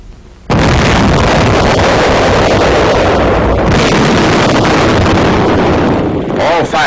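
The US Army's Little David 914 mm mortar fires with a sudden, massive blast that rolls into a long, loud roar of rumbling noise, sustained and overpowering, with heavy wind buffeting on the microphone.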